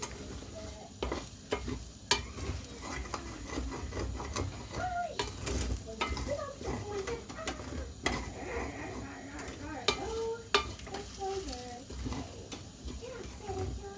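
Ground beef and egg sizzle steadily in a pan while a utensil scrapes and clicks against it in irregular strokes, with a voice faintly in the background.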